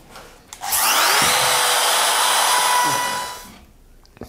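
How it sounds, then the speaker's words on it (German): Random orbital sander working across a wooden bench lid, a loud steady high whine that spins up, holds for about three seconds, then winds down, with a few small knocks before and after. "Das Ganze habe ich jetzt mit einem Exzenterschleifer gemacht."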